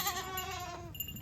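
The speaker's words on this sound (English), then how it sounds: "we're here at the goats" A single goat on a farm lets out one close, wavering bleat lasting about a second, fairly loud and alone.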